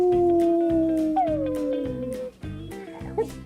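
A dog lets out long, sustained howls with wavering pitch, close and loud, alongside a repeating rhythmic thumping backdrop and without talk.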